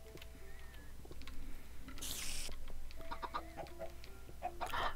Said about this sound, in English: Oh, we has live chickens.